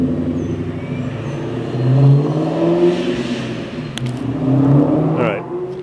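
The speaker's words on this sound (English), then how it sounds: "Supercharger, turbocharger." A supercharged Mustang's engine whines and revs nearby in traffic, a rising and falling mechanical whir over a low rumble, swelling loudest twice as the car accelerates.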